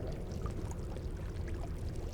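Dense, steady rushing water flows continuously in the archive tunnels of the horror game Amnesia: The Dark Descent, a constant low splashing wash with no breaks.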